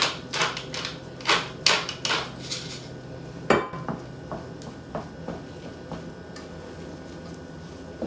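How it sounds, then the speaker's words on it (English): Cheese is being mixed in a bowl, a run of sharp utensil clinks and scrapes against the bowl, several quick strokes at first and then sparser, fainter taps, with no talking. "Now we're gonna mix the cheese."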